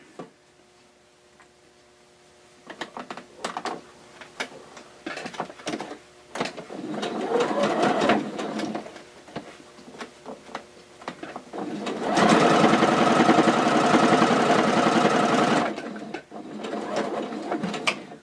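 A sewing machine stitches face masks in short rattling bursts, then runs in one long, fast, steady whirr before slowing to a few more stitches.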